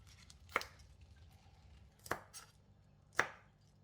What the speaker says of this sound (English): Cut the stem into half to reduce their cooking time